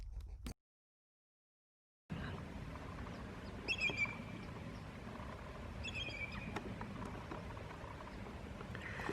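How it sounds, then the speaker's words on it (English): Thin, high chirping calls of a sandpiper come in a few short bursts over a steady outdoor hiss, faint and somewhat distant. "But this isn't a killdeer, this is a sandpiper."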